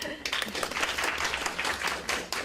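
A lecture audience breaks into applause, a dense, fairly loud burst of many hands clapping together for a couple of seconds.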